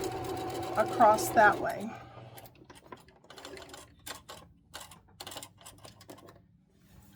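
A sewing machine stitches two quilt blocks together in a short whirring run near the start, then fades into quieter handling noises while a person speaks.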